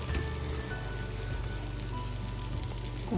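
Cajun-seasoned fish pieces fry in a hot pan with oil, giving a steady close sizzle and crackle that runs unbroken throughout with no voices.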